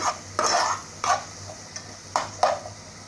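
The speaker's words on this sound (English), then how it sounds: "I've been frying off the onions for a couple of minutes" Onions sizzle and crackle as they fry in a pan, with several bursts of stirring and scraping against it, close by and fairly loud.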